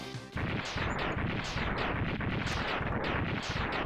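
Repeated loud explosion bursts from boss defeats in the video game Mega Man X3, a dense rapid series of crackling blasts rolling on steadily after a short opening tone, with no talk.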